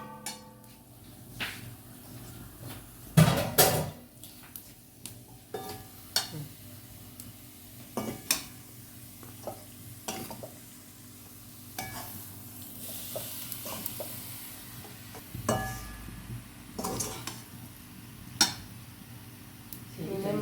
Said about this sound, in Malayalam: ഇത് മട്ടനെല്ലാം ശരിക്ക് ഇളക്കി യോജിപ്പിച്ച് കഴിഞ്ഞിട്ടോ.